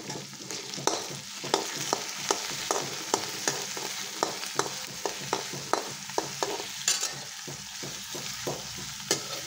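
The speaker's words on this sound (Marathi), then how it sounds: "कढीपत्ता पण चांगला परतून घ्यायचा।" Chopped onion and curry leaves sautéing in a pan, a continuous sizzle with regular scraping strokes of a stirring spoon recurring every half second or so, close and clear without talk.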